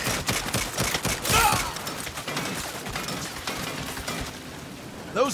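Rapid turret gunfire in the Saints Row video game rattles in a dense, continuous barrage, loud and close, with crashing impacts layered throughout.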